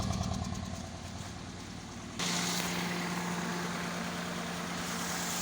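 A car engine with a misfire idles with a steady, uneven pulsing exhaust note from the silencer, recorded close up and fairly continuous, growing slightly louder and rougher partway through.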